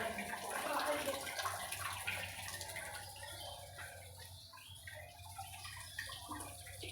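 Water runs steadily from a motor-fed tap at a temple, a continuous splashing flow with faint background sounds and occasional voices.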